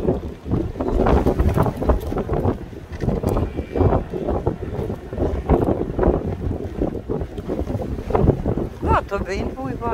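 Wind buffets the microphone in a constant low rumble, with people talking throughout, outdoors at a street market in a town centre.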